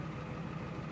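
Close, steady idle of a 1991 Ford F250's 7.3 IDI diesel after new injectors, a continuous low throbbing rumble with no breaks or revving, heard alone.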